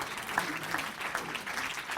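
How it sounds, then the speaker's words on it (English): An audience at a Speak Up event applauds warmly, with dense, steady clapping from a sizable crowd filling the room. "how about a nice warm round of applause for my very brave wife, Alicia Dix."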